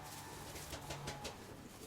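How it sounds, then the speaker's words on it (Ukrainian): A male pigeon coos in low, soft throaty pulses nearby, against faint background noise. "Це знов голубок, самець, тобто ось такий рябий."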